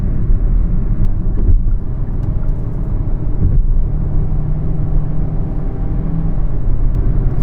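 A 2021 Kia Soul S with a 147-horsepower engine and IVT transmission accelerates to pass on a two-lane road, giving a steady, loud cabin drone and road rumble that holds evenly throughout.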